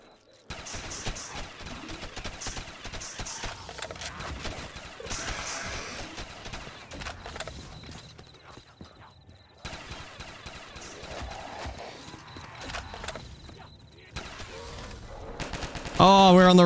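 Machine gun fire rattles through a video game gun-game match in a large town map. Dense, continuous bursts and rapid gunfire run almost nonstop with brief breaks, and a voice talks over part of it.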